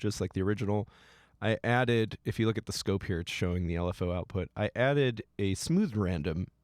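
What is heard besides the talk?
No everyday noise stands out behind the speech.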